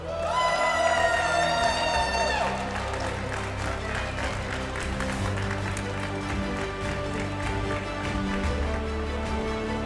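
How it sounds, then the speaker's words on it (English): A crowd at the 2024 Pokémon GO Bologna Special Event tournament breaks into sustained applause for a player. It opens with a loud, rising whoop and carries scattered cheers over a steady roar of clapping. "Give a big round of applause for Paulasha!"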